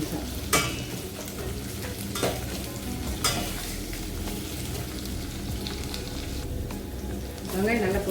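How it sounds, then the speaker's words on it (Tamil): Onions sautéing in a pan for drumstick-leaf sambar, an even crackling sizzle with periodic scraping clatters of the spoon stirring them around. "வெங்காயம் வதங்கணும்."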